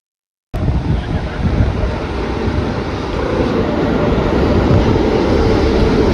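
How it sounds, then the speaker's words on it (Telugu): A passenger train arrives at a nearly empty railway station on a pilgrimage trip to Arunachalam, a loud, steady rumble and roar of rolling cars that begins abruptly and continues close by, with no voices. "వచ్చేసింది మా ట్రైన్ ఇంకా"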